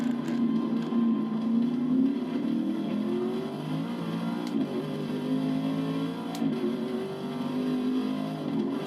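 Sustained race car engine drone from Forza Motorsport 6 at Road Atlanta, steady and loud with gentle pitch sweeps as the car drives toward pit exit, running continuously without talk.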